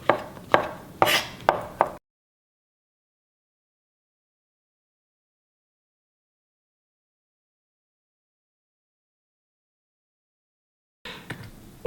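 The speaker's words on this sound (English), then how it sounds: "Just kind of a quick chop on the little woody stem there, and then your best slicing technique on the mushroom cap itself." A knife chops the woody stems and slices the caps of mushrooms on a board for a Hungarian mushroom soup: about five sharp, close knocks in quick succession, then a long silence before a short burst of cutting returns at the end.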